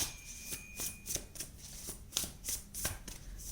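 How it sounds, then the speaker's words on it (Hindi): Tarot cards being drawn and handled from a deck: a series of soft, crisp card flicks and slides about every half second, close and fairly quiet, with no voices. "सबसे पहले 2 कार्ड्स निकालते हैं फॉर योर पास्ट."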